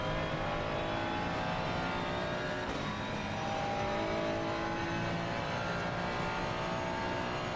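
A Ferrari race car engine in Assetto Corsa Competizione drones steadily at high revs throughout, with a brief dip around a gear change, fairly quiet and continuous with no voices.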